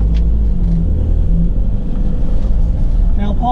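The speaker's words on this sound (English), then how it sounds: "let's get the engine started up" A 2015 Ford Transit single-cab tipper truck engine runs at a steady, loud, low idle rumble, with a brief faint higher tone near the end; no one speaks.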